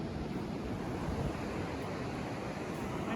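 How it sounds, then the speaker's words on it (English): Pacific Ocean surf at Bolinas Beach in January, a constant broad roar of waves mixed with wind buffeting the microphone, with no voices heard. "This is your introduction to the Pacific Ocean."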